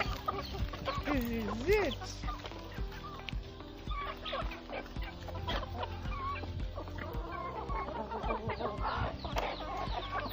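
Village chickens cluck and squawk close by at morning feeding, overlapping calls in a busy flock, with a person talking briefly over them.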